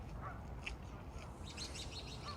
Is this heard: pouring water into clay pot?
no